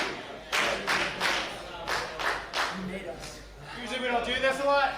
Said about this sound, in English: Crowd very appreciative of all four of these competitors,